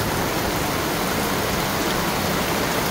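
Heavy rain pours steadily, a dense, even hiss that fills the space from start to finish with no pauses, close and loud, with no voices over it.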